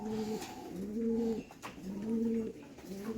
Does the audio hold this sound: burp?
no